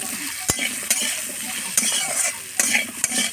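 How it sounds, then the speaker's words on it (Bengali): Potatoes frying with turmeric and salt for a stem curry, stirred in the pan: a constant close sizzle with repeated spoon scrapes and knocks at an uneven pace, nobody talking. "আলুর মধ্যে হলুদ গুঁড়ো, লবণ দিয়ে ছকে নেব।"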